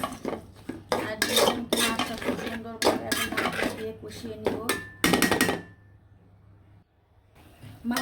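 Snakehead fish is turned with spices, onion and green chili in a pan, giving a rapid rhythmic clatter of a metal spatula scraping and knocking against the pan. The clatter stops abruptly near the end.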